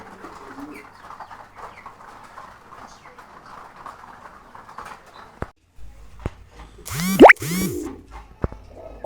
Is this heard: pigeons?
yes